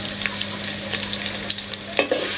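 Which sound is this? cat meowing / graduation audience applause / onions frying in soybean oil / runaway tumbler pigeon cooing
onions frying in soybean oil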